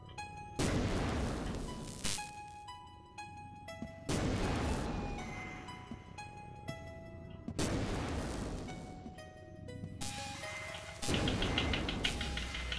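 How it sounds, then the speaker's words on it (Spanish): Loud, heavy bursts of gunfire and explosive booms from the video game Horace arrive in several waves, each blast ringing out with metallic tails between them. "No sé de qué lado vienen los disparos."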